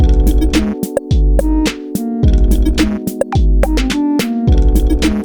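A looping, layered drum beat with punchy kicks and crisp percussion under chordal electric piano samples, repeating in a steady groove.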